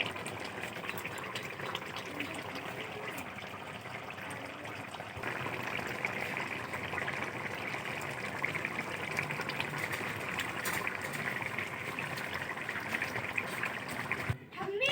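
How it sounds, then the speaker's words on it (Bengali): Bhola fish curry with onions simmers in a pan, giving a steady, continuous bubbling and watery gush that runs without a break for the whole stretch, fairly close and alone. "কত সুন্দর ফুটছে দেখো।"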